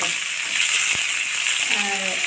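Cluster beans fry in a pan with a continuous sizzle and crackle, and a brief clink partway through. A voice speaks over the cooking near the end.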